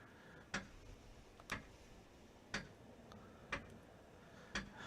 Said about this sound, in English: Sometimes it feels like I can hear it ticking from all the way in the bedroom.